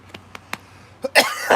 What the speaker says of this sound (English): why did I cough?